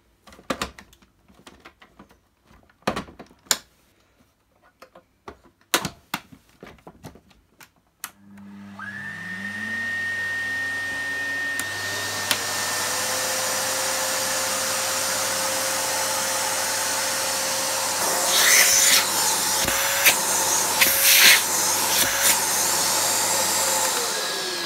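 A Panasonic Icon MC-E581 vacuum cleaner is plugged in after some clicks and handling, then its motor starts and runs with a steady loud whine and rumble. Sharper rattles break in partway through, and no one speaks.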